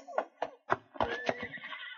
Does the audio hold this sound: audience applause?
no